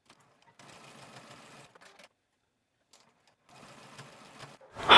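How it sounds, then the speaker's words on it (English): A sewing machine runs a stretch stitch across the edges of main and lining fabric in two bursts of steady mechanical whirring, separated by a pause, ending with a loud knock. "we're going to sew across these edges"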